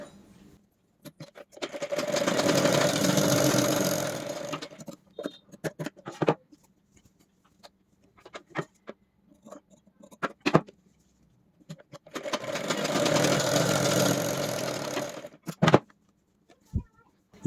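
A sewing machine stitches a blouse sleeve seam in two steady runs of about four seconds each, a close whirring hum, with soft clicks and handling of fabric in the quiet gap between.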